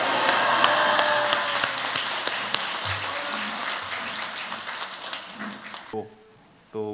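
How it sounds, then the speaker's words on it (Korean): A church congregation at a prayer revival applauds to welcome a pastor. The clapping is loud at first, thins out over several seconds and ends, and a voice speaks briefly near the end. "나오실 때 할렐루야 하면서 큰 박수로 맞이해 주시기 바라겠습니다."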